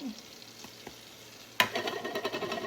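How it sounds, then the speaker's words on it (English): Flour gets stirred into two tablespoons of butter and one of oil in a hot pan for a roux for cheese enchiladas. A soft sizzle turns into a sudden burst of scraping and frying as the spoon works continuously. "I'm gonna keep stirring it continuously until it gets kind of a light brown color to cook the flour"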